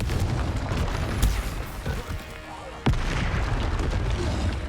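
Spell blasts go off in the game Hogwarts Legacy, a dense, loud mix of booming bursts with two sharp impacts standing out over a constant roar of game noise.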